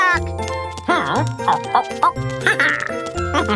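Cartoon ducks quack in a rapid series of nasal, bouncy calls with overlapping voices, loud and close, mixed with cartoon character voices.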